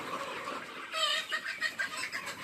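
Chickens clucking at a poultry farm during a batch sale, a few quick, faint clucks in close succession after a moment of low background noise.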